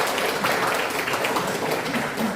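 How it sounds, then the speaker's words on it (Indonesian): An audience at a PhD defense on bankruptcy law applauds with steady, dense clapping that fills the whole moment at moderate loudness, with no voices over it. "kasih aplaus ya"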